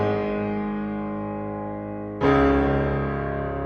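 A Bösendorfer Imperial virtual piano heard through a Decca tree microphone setup holds a sustained chord, then a fresh, louder chord with deep bass strikes and rings on, alone and roomy.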